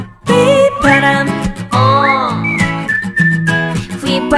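A person whistles a bright, wandering melody with rising slides and sustained notes, loud and close, over a steady acoustic backing, from an acoustic version of a Korean song.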